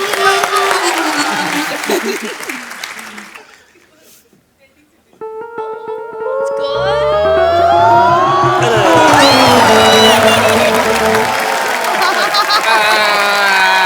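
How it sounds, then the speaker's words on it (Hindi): Applause and crowd noise from a comedy show studio audience swell at the start, fade into a quiet gap, then return under bright electronic music and chatter. "जोरदार तालियां फॉर द नेक्स्ट प्लेयर"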